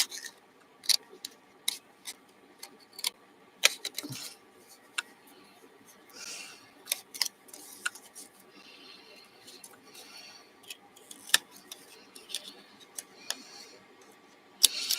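Scissors snip repeatedly while things are cut out, giving quiet, irregular clicks and short cutting strokes close by, with faint voices now and then.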